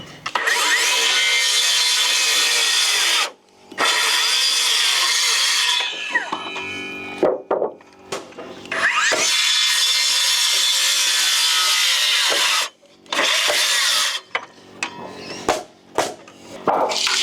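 Saw cutting 140 pine top timber for house wall framing: repeated loud, rough rasping strokes in long bursts with short pauses between, close up and alone, with no voices.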